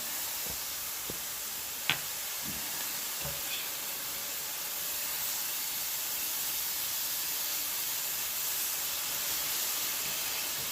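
Bacon strips frying in a pan on the highest heat, giving a steady, loud, close sizzle and hiss that runs throughout, with a few faint clicks and a sharp tap near the start.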